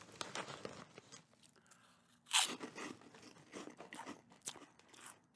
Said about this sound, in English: They make a nice crunch.